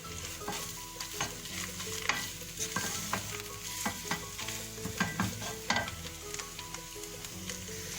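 Spinach being stirred into chicken pie filling in a pan, with steady scraping and shuffling strokes over a soft sizzle, close and continuous, and no talk.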